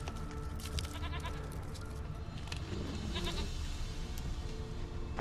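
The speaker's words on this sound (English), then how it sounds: "Okay, that's the goat." A goat bleats in The Witcher 3: Wild Hunt, its cries set against a busy game soundscape of ambient music and effects over five seconds.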